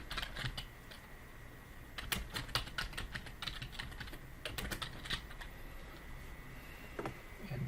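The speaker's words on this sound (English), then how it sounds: "I'll type first." Quiet, close typing on a computer keyboard, with irregular bursts of key clicks separated by short pauses and no talk.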